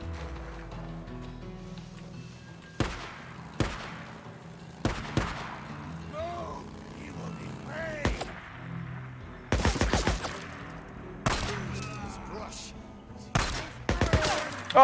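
Gunfire in the zombie-survival video game Days Gone: loud, sharp shots fired singly and in quick bursts, some rapid volleys, over a quieter game background with a voice talking now and then.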